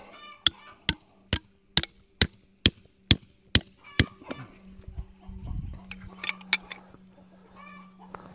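Hammer blows at a chicken coop: about nine sharp, evenly spaced strikes ring out close by, followed by a few scattered softer knocks and faint background rustle.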